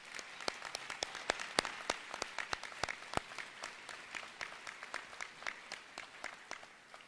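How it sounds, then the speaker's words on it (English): Audience applause for newly elected county board members and officials at an inauguration, many separate sharp claps in a dense irregular patter, fairly faint and sustained throughout with no speech. "Let's give them all a round of applause."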